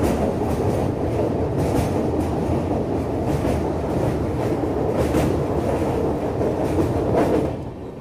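A Shatabdi Express runs fast on the rails between Delhi and Bhopal, a loud continuous rumble with rhythmic clickety-clack from the wheels, heard from inside the carriage.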